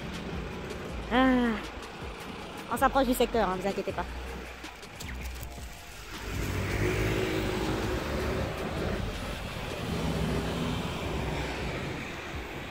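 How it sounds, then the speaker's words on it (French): A passing truck builds into a broad, steady rumble that swells and lingers for several seconds after someone speaks briefly in French. "il y a le bruit du camion, vous n'allez pas m'entendre."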